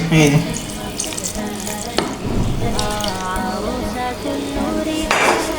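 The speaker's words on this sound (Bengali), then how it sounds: "এখন আমি এই লিকুইড দুধটা দিয়ে দেবো।" Liquid milk is poured into a soaked rice and egg mixture for a pudding, making a continuous watery splashing and trickle with a few clinks of dishes and utensils.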